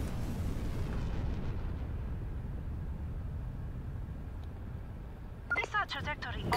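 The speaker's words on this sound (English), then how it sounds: "Kaboom." A missile explosion in Just Cause 3 gives a long, deep, roaring rumble that slowly fades, and a voice briefly breaks in at the end.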